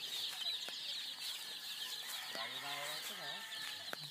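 Chickens and small chicks feed outdoors, with soft clucks and high cheeping calls close by over a steady hiss of background noise.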